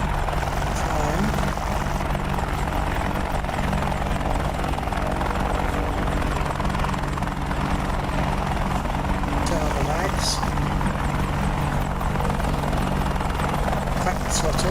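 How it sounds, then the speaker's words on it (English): A propeller aircraft engine in the DCS flight simulator runs as a steady, loud, droning rumble with rhythmic prop chop throughout, while a voice talks over it. "Get the prop turning."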